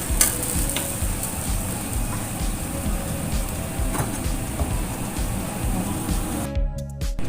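Green beans and fish balls stir-frying in a pan give a steady, close sizzle with continuous scraping and stirring, dropping away sharply near the end.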